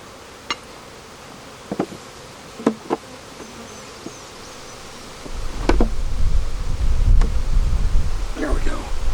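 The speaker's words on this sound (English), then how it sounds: "Why so angry, bees?" Angry honey bees swarm around an opened hive during post-harvest splitting, a steady close buzzing that swells louder in the second half, with a few sharp knocks and brief rustles early on.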